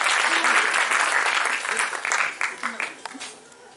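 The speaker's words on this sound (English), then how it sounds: "A huge round of applause for the entire family of JSS Music Academy." Audience applause at a live music show put on by a music academy, a dense burst of clapping that thins out and fades toward the end.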